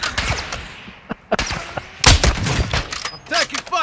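Gunfire in Call of Duty DMZ, several sharp broadband shots and short bursts scattered across the clip, moderately loud amid game noise and chatter-free ambience.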